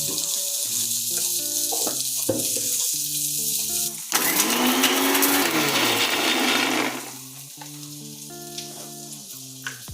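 A kitchen mixer grinder briefly whirs loudly as it grinds dry-roasted whole spices, starting and stopping in short pulses among smaller kitchen clatter.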